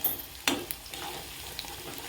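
Onions frying in oil with asafoetida added for spring onion jhunka, a steady soft sizzle broken by a sharp spoon tap and a few light stirring scrapes, close and fairly quiet.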